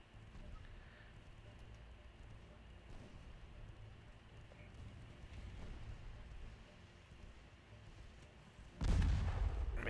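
Naval guns firing in the warship game Ultimate Admiral Dreadnoughts, Austro-Hungarian fleet: a low rumbling battle backdrop with muffled distant booms, ending in a loud, deep close blast, with a voice speaking faintly underneath.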